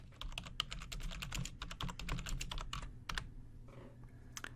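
Rapid typing on a computer keyboard, a dense run of close, clicking keystrokes with a short pause near the end, quiet and alone.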